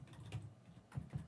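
Quiet keystrokes tap on a computer keyboard, a few soft, irregular clicks within a second, close and faint with no talking.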